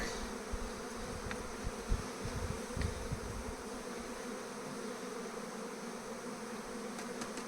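Honey bees from a swarm caught the day before buzz steadily inside a hive, a dense continuous drone close by with no talking.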